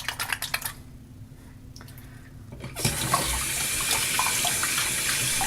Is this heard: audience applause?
no